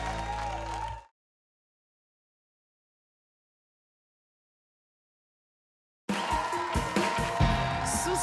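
Studio audience applause on a French-language TV game show: a second of clapping and music that cuts out into silence, then returns about five seconds later as a loud burst of clapping and cheering.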